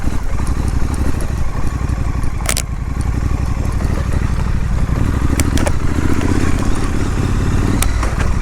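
A Triumph Scrambler 900 motorcycle engine drones loudly and steadily while climbing a dirt track, with gravelly clatter and wind noise throughout.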